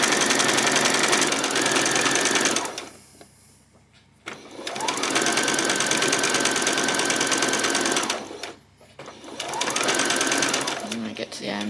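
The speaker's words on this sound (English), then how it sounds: "And when I get to the end bit, just do a back stitch." A sewing machine stitches fabric for a peasant top in three loud, rapid runs separated by short pauses, ending with a back stitch, with a voice speaking over the machine.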